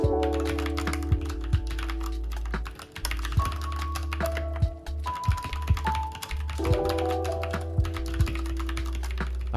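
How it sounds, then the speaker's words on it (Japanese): A 75% US-layout mechanical keyboard with brown switches and no backlight is typed on steadily, giving a close run of crisp clacks and taps over a low steady hum. "ノンバックライト US 配列の茶軸を利用しています。"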